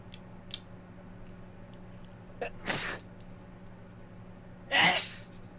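Two sharp sneezes from one person indoors, a short one followed a couple of seconds later by a louder, fuller one, with only faint small clicks between them.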